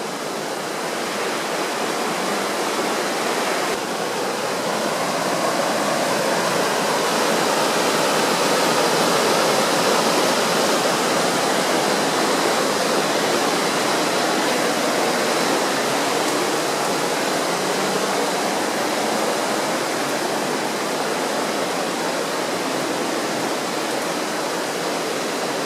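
Water rushing steadily through a stream beneath an old Roman cistern, a dense, unbroken broadband roar that stays loud and even throughout with no voices.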